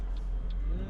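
A car on a road in Reedsburg, Wisconsin, producing a steady low engine and tire rumble that stays close and even for just under a second, with no talking.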